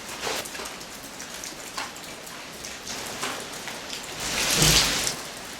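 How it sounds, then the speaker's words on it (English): Steady rain patters on a surface, with scattered heavier drops and a brief louder gust of rainfall near the end. "You sure it wasn't the rain?"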